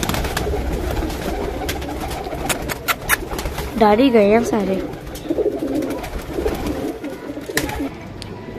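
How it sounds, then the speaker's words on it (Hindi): Pigeons kept on a rooftop give a brief burst of throaty cooing amid outdoor background noise and clicks, while someone talks nearby. "ये देखिए हमने कबूतर भी रखे हुए हैं।"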